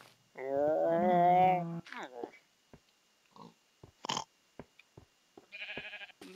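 A synthetic sheep in the video game Tree of Life gives a long wavering bleat, followed by sparse clicks, soft thumps and a brief higher bleat near the end.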